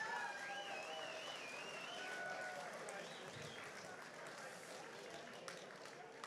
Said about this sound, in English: So let's give a big round of applause for them.